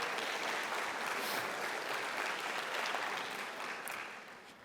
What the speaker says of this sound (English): So you can give yourselves an applause.